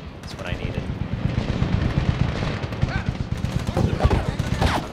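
Rapid AK-74 rifle fire in a Medal of Honor video game, dense automatic bursts crackling continuously with sharp reports and explosive thumps, loud and close.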